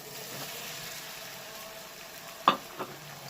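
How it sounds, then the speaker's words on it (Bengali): Potatoes and cauliflower fry in oil for a niramish aloo phulkopi, a constant moderate sizzle broken by a sharp clatter and a smaller knock near the end, without speech. "এইবার দিয়ে দেবো আলু আর ফুলকপিটা একসাথে।"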